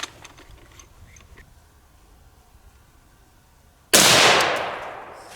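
A 5.56 rifle fired through a Rugged Razor suppressor gives one sharp, loud report that hits suddenly and trails into a broad hissing decay, after several seconds of quiet outdoor background.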